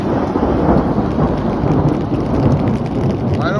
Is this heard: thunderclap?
yes